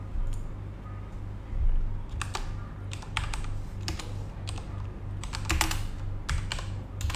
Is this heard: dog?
no